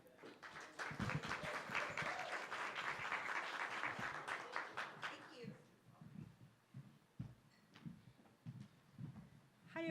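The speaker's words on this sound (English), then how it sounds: "let's give a big round of applause for our next speakers" A conference audience at a Nerd Nite Austin talk night applauds to welcome the speakers, poets. The clapping is dense and sustained for about five seconds, then thins to scattered claps while voices come in.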